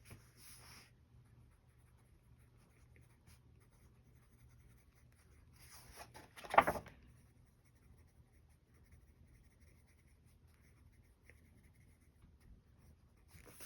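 Pen or pencil writing notes in a gouache sketchbook: faint, quiet scratching close by, broken by one sharper knock or tap midway, with no talking.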